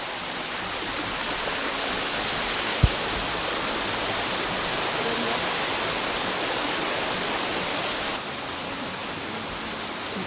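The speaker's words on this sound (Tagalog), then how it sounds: "agos ng tubig" Seto waterfall in Japan pours steadily, a dense, continuous roar of rushing water that stays loud and even throughout, with one brief knock partway through and no voices.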